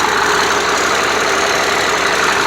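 A Cummins diesel engine in a Liugong 50CN wheel loader, which has a fault in its valve gear, idles loudly and steadily right up close with a dense, even mechanical clatter and no voices.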